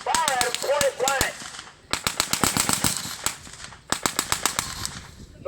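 Rapid bursts of gunfire and sharp blank shots at an outdoor WWII battle re-enactment with guns and artillery, rattling in quick strings while someone talks over them.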